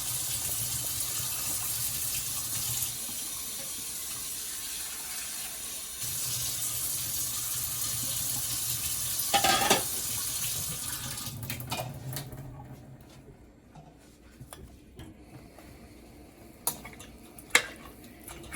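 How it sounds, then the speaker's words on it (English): Water runs from a tap into a cooking pot for oxtail and spinach rice, a steady splashing fill that carries on for several seconds, then dies away into quieter clinks of a pot and utensils. "I'm gonna add a little more water in the pot, guys."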